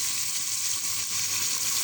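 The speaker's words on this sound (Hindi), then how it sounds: "अब मैं इसमें पानी डाल के शोरबा कर लूँगी।" Water pours into a pan of aloo gosht cooking with potatoes, a steady hissing sizzle and rush that stays even and close for the whole short moment.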